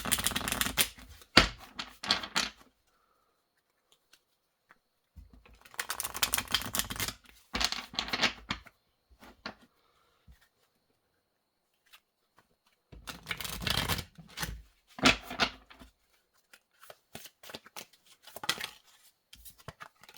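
An Enchanted Map tarot deck being shuffled in several separate bursts of riffling and flicking card sounds, close and crisp, with stretches of near silence between them.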